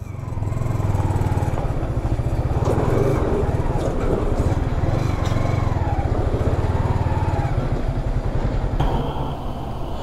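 A motorcycle engine idles loudly nearby in a parking spot in Manila, with a steady, throbbing putter, and a brief voice is heard in passing.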